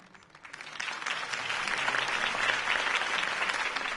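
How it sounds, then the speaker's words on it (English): A crowd at a political campaign rally in the Batman Telltale video game applauds, the clapping swelling from quiet to a full, sustained ovation that holds steady. "If only Mr. Wayne, my campaign's largest backer, could have heard that applause"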